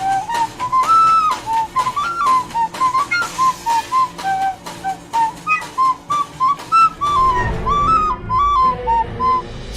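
Playful video game music with a bright whistle-like lead melody hopping in quick short notes over a bouncy backing, loud and continuous, with the arrangement shifting to a busier texture near the end.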